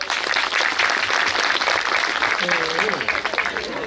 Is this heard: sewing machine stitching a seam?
no